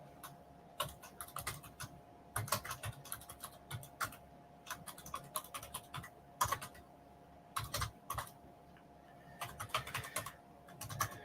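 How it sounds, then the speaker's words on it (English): Quiet, close typing on a computer keyboard comes in irregular bursts of rapid clicking keystrokes separated by short pauses, over a faint steady hum with no talking. "I swear I can type today."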